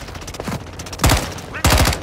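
Bursts of gunfire in a Call of Duty multiplayer objective match, with two loud close volleys cutting through fainter background shots and game noise.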